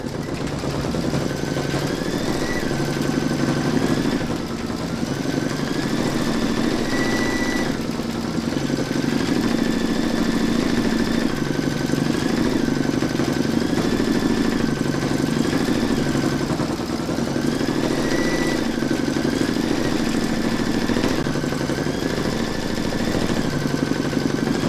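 An embroidery machine stitches the leaf detail of an in-the-hoop poinsettia bunting in reddish-brown thread, giving a loud, steady mechanical whir and clatter that runs unbroken throughout with a faint repeating tonal pattern and no talking.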